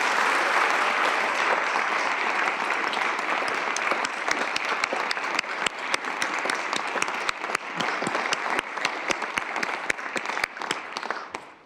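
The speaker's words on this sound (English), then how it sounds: "Would you all give them a round of applause?" An audience at the South Dakota governor's FY2026 budget address applauds the Bureau of Finance and Management, a dense, loud wash of clapping that thins toward the end into sharper, scattered individual claps before fading out.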